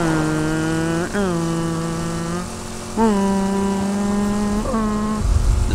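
A car engine in the video game Borderlands 2 revs high and steady, its pitch jumping sharply three times as it shifts up through gears, loud and close.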